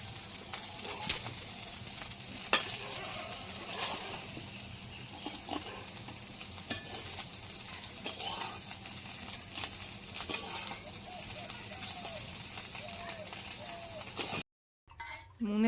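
Fish frying crisp in a pan over a wood-fired stove, giving a steady, soft sizzling hiss with birds chirping nearby, before the sound cuts out briefly near the end.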